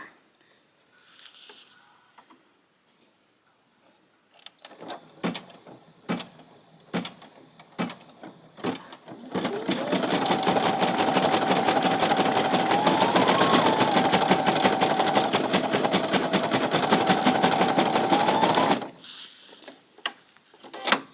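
A Brother PE-800 embroidery machine stitching a smiley face onto a youth hoodie: clicks and handling first, then a loud, fast, steady mechanical stitching whir for about nine seconds that stops abruptly.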